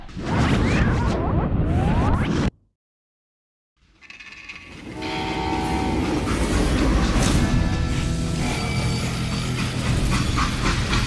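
Train rolling along rails in the Call of Juarez Gunslinger video game, a loud rushing rumble with clattering and a whistle-like tone, broken by a second of silence before the moving train noise swells back.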